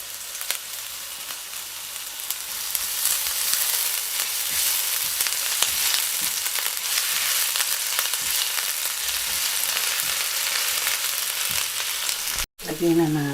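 Small sardines and calamari fry in a pan with ginger just added, a loud, steady sizzle that fills the whole stretch, broken by a brief drop near the end.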